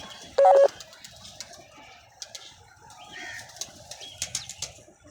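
Pigeons outdoors give short soft calls and brief bursts of wing movement, with one loud close flap or clatter early on and scattered faint chirps and rustles after.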